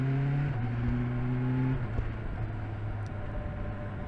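A 2021 BMW S1000XR motorcycle engine drones at a steady pitch, then clicks through quick-shifter upshifts, its tone stepping down abruptly at each change before settling into a lower, even hum over wind rush, heard from the rider's position.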